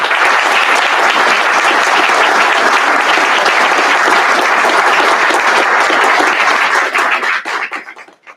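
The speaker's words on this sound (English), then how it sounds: "let's still give her a round of applause for her" Audience applause at a Williamsville Wall of Fame ceremony for an absent honoree: loud, dense clapping from a large crowd that holds steady for several seconds, then thins out and fades near the end.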